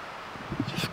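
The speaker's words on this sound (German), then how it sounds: "Da ist so ein, der Wind streift hier durch." Wind moves through fir trees in the Black Forest as a soft, airy rustle with a slightly stronger gust near the end, close to the microphone.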